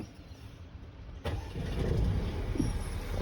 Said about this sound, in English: I'll turn on the vehicle and we'll go from there